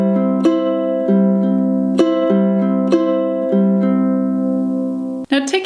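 Ukulele fingerpicking pattern for a song played at song tempo: steady plucked notes, repeating arpeggiated pattern with regular beat accents, clear and close, ending with a brief strum-like burst, no talk.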